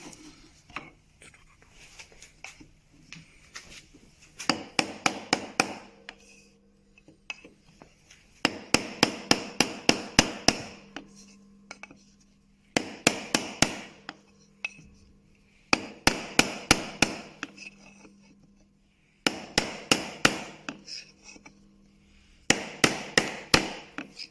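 Glued wooden Champagne box pieces being split apart with repeated hammer blows, fast bursts of sharp knocks in several clusters separated by short pauses, loud and close with faint creaks of wood between.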